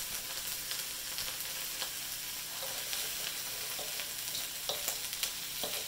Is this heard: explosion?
no